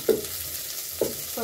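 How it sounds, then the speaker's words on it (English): Onions go into hot oil in a pot while a chicken stew is being cooked, giving two short, fairly loud bursts of sizzle and stirring about a second apart over a low steady frying hiss. "just going to add the onions into the hot oil"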